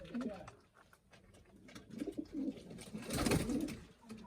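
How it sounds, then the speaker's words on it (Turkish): Pigeons cooing in a coop, soft low throaty coos repeating in irregular bursts, close but faint, with a brief burst of rustling or flapping near the end and light background noise. "güvercinleri var burada da"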